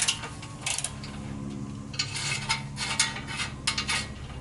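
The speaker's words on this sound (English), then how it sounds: "using a breaker bar just to make my life easier" A breaker bar with a 16 mm socket loosens the front bumper bolts on a Jeep JL, giving close, gritty ratcheting and metallic creaking strains in uneven pulses.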